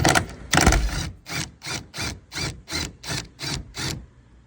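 A ratchet with a 10mm deep socket loosening taillight nuts on an S550 Mustang, about ten evenly spaced, close, scratchy ratcheting strokes that come in a steady rhythm and fade at the end.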